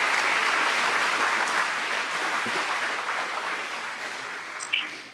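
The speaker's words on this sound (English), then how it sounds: "Give them a round of applause." Audience applause at a college baseball and softball First Pitch Mingle, honoring former players: steady dense clapping from a sizable crowd, fairly close, holding even for several seconds and slowly tapering near the end.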